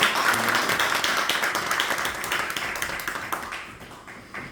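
Audience applause at a church theology seminar, dense clapping that is loud at first and gradually thins into scattered claps as it fades out.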